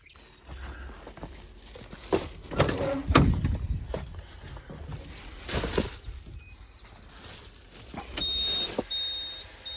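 Someone climbs into a truck, with door thumps, rustling and a power window whirring, then the engine hums as the truck pulls out onto a road, all nearby and without talk.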